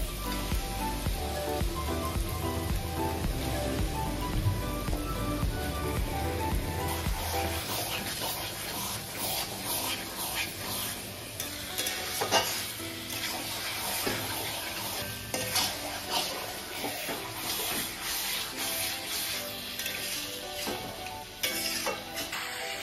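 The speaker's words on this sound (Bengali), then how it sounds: "মশলাটা কষানো হয়ে গেছে, এখন আমি দিয়ে দিচ্ছি মাংসটাকে।" Mutton pieces are sautéed in a cooked spice masala for a Bengali mutton curry with papaya, giving a continuous sizzle with a run of spoon scrapes and metal clinks against the pot, no speech.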